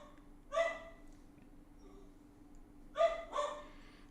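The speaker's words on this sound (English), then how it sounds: "dog's gone crazy." A dog barks excitedly in two bursts, a single bark followed by a quick double bark, fairly close against a quiet indoor background with a low steady hum.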